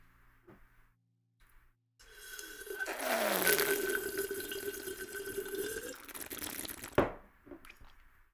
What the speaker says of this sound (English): I kind of have to drink water loud